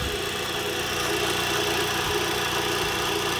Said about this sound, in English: Pump's pumping.